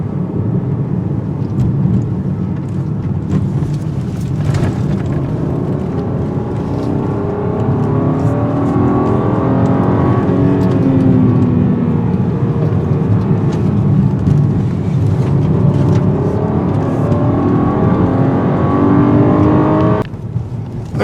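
A 2021 VW Atlas V6 SUV is driven hard through a tight corner, its engine loud and close with a steady roar, pitch rising and falling as it works through the bend, ending in a brief drop near the end.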